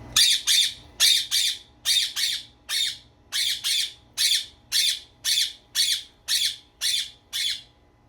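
A pet parrot squawks loudly and close by, about fifteen harsh shrieks in a steady repeating rhythm, often in quick pairs, with short silences between.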